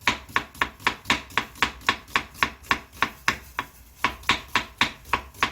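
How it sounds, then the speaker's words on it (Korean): A knife slicing half a medium onion very thinly on a board, about fifteen crisp, evenly spaced chops in a quick steady rhythm, close and clear with no voices. "양파 중간만한 거 반쪽이요. 반쪽을 아주 얇게 얇게 얇게 얇게 썰어주셔요."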